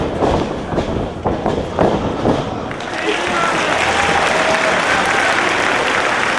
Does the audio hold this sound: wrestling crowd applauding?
yes